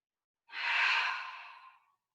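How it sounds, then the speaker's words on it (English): A single big, long breath taken during a yoga stretch, drawn in and slowly released, soft and airy, close by and alone, fading out after about a second and a half. "Big long breath."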